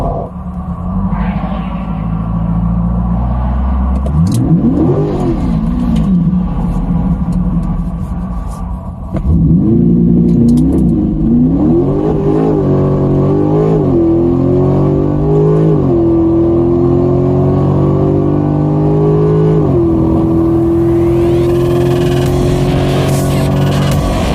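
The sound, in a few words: 2023 Chevrolet Corvette C8 Stingray accelerating hard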